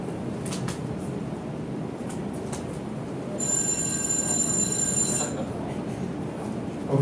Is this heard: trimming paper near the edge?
no